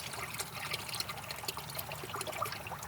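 Water draining out of a flooded Corvette engine into a bowl, a continuous close pouring trickle, steady and moderately faint.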